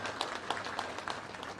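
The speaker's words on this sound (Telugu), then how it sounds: "మీకు అందరికి కూడా పింఛన్లు వస్తున్నాయని నమ్మకం ఉంటే గట్టిగా చప్పట్లు కూడా చెప్పండి" An audience at a public political meeting claps in a dense, continuous patter of many hands. It sounds fairly distant and steady throughout this short moment.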